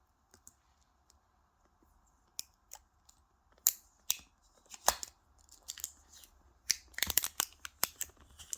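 Scissors snipping the plastic wrapping off a Chanel bag, a series of crisp close-up cuts and clicks, sparse at first and then quicker and clustered, with quiet gaps between.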